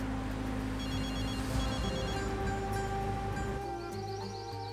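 A telephone rings with a repeating electronic tone, layered over a dramatic music score in a Turkish TV drama, steady and prominent throughout.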